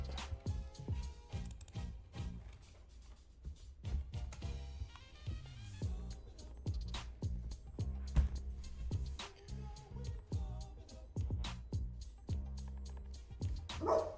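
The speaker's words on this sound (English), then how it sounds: "So, why are you barking?" A dog barks repeatedly in sharp, irregular bursts, fairly close, with occasional yips between barks and no talking.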